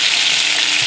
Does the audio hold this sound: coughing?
no